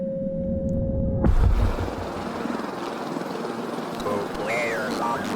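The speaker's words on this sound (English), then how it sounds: "Well, a helicopter." A helicopter in a horror video game thunders in abruptly after a steady tone and keeps up a loud, continuous rotor roar. Brief whistling sounds rise over it near the end.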